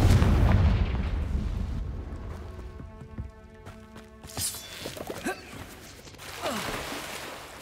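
A Confringo spell blast from the game Hogwarts Legacy erupts in a loud, booming burst at the start, then fades into rumbling debris and scattered smaller crackles and impacts.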